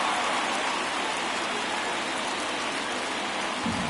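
A steady, dense roar from the stadium crowd at a Cardinals at Dodgers baseball game, held without letup throughout the late innings, with no distinct voices standing out.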